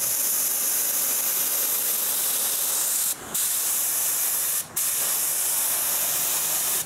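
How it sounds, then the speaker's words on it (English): A spray gun hisses steadily and loudly while spraying exterior paint onto wooden frames, cutting out twice for a split second before resuming its continuous spray. "Now I can spray both frames."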